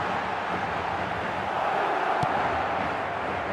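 Stadium crowd noise from an eFootball 2026 online match, a steady, broad murmur of a large crowd with no clear surges, plus one brief sharp tap midway.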